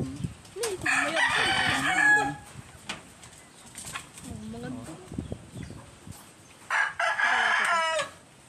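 A fighting rooster crows loudly nearby, twice, with people talking in between and around the calls.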